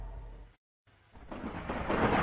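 A thunder sound effect for divine lightning: after a brief silence, a low rumble builds and grows louder, ending in a sharp crack.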